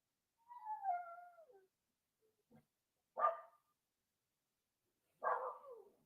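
A dog barks a few times at a distance, starting with a drawn-out whining yelp, then two shorter barks separated by quiet pauses.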